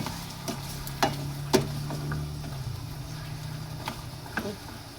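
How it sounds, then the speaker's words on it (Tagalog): A spoon stirs chicken afritada cooking in a pan, giving a few scattered scrapes and knocks against the pan over a soft, steady simmer and low background hum, close by. "Haluin natin para magpantay ang luto."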